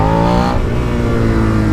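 A 2017 Suzuki SV 650 motorcycle engine pulls hard in a very short first gear, a loud close rising whine that drops at a quick shift, then climbs again.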